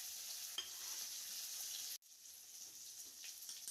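Chopped chillies and tomato are stirred in a hot pan for Bengali-style masoor dal, a faint steady sizzle with a few soft scrapes. The sizzle cuts out sharply partway through, then a quieter frying hiss resumes, with no talking.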